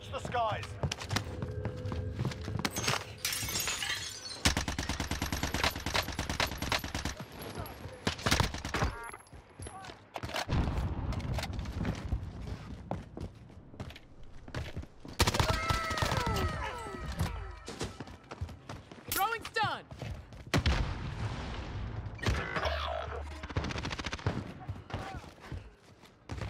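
Bursts of gunfire in Call of Duty Warzone on Alcatraz, scattered shots and rapid volleys at varying distance, mixed with footsteps, game effects and people talking over the action.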